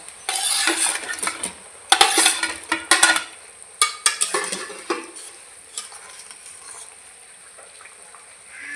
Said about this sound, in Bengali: দেখুন আমার ঝোলটা কত সুন্দর ফুটছে। এবার আমি এর ভিতর দিয়ে দেবো পটলের বড়া।